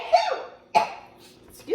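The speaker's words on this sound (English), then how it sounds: "All right, I got to sneeze," A person sneezes close by in a home kitchen, with a short sharp burst, a second forceful sneeze and a brief breathy sound after it.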